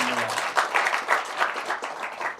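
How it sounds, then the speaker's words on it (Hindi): An audience at a poetry and ghazal gathering claps for the host, a steady, moderately loud applause that holds even for a few seconds. "एक बार संचालन के लिए आप लोग ताली बजाइए।"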